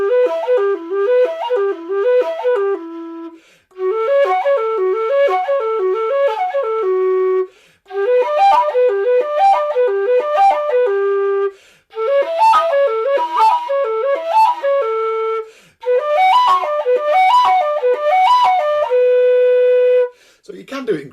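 Low D whistle running through warm-up exercise phrases, rapid groups of notes rising and falling in five bursts separated by short breaths, ending on a long held note; close, clear and loud with no talking.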